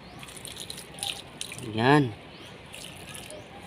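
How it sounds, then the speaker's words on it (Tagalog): Water poured onto potted flowering plants at home, a soft splashing trickle under a woman's speech, with a brief louder swell of talk in the middle. "Lagyan natin ng tubig yan."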